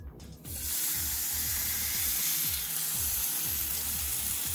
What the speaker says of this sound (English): I want to create a nice sear on all sides.